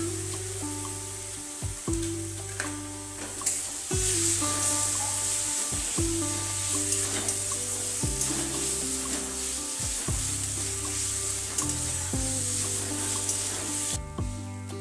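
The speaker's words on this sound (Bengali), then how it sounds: "এরপর দিয়ে দেব টমেটো কুচি।" Chopped tomatoes frying in a pan for an Indian egg curry, a continuous loud sizzle with regular thuds and scrapes of stirring roughly every two seconds, and no talking.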